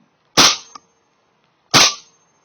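Two sharp single shots from a KWA LM4 PTR airsoft rifle fitted with a KJW M4 NPAS, each a loud close crack with a brief tail, spaced well over a second apart with silence between.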